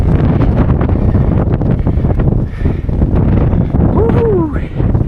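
Strong wind buffets the microphone in loud, low gusts on the slopes of Pen-y-Ghent in Yorkshire, rumbling continuously with a brief lull midway and a faint whistling tone near the end.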